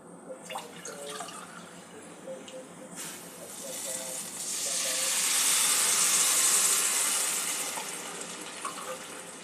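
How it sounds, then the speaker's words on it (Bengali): Water is poured into a cooking pot for Bengali-style sweet pulao, a steady rushing hiss that swells in the middle and then eases off, close by and with faint kitchen sounds underneath. "দু কাপ জল দিলাম।"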